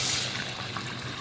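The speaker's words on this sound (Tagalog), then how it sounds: "Ilalagyan na natin siya ng water." Water pours into a soup pot for patola soup with meatballs, a short, close, steady trickling gush lasting only about a second.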